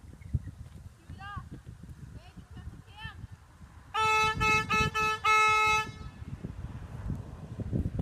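An air horn is blown as a prank, sounding several loud, blaring blasts in quick succession midway through. Voices and background chatter come before and after the blasts.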